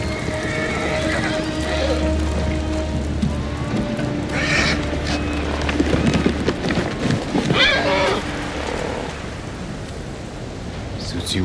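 Kage, a horse in the video game Ghost of Tsushima, whinnies amid low background ambience and a steady hum, with a couple of brighter neighing bursts in the middle under faint rustling.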